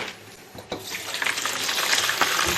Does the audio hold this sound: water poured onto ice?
yes